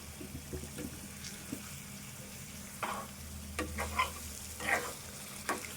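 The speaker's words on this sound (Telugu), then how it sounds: "ఇట్లా మంచిగా ఫ్రై చేసుకోవాలి" Chicken pieces frying in oil for a tangy gongura chicken dish: a faint, steady sizzle with several sharp stirring and scraping clacks scattered through the second half.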